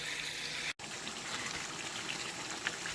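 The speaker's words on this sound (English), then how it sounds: "I'm adding water, and I want this chicken to cook." Water pours steadily and loudly into a cooking pot of chicken, a continuous gushing rush with one brief break, close by and with no talk.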